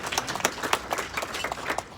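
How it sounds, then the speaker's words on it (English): Light, scattered clapping from a banquet audience at a Hawaii tourism event in the Sheraton Centre Toronto hotel: sparse, distinct claps, fairly faint and somewhat distant, with no talk over them. "Round of applause for Miley."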